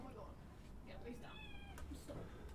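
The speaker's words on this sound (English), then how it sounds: "the cat was deciding to climb up the back of this" A cat meows a few times while climbing up the back of something indoors, the calls fairly close and set over a steady room hum, with background speech from a live football stream.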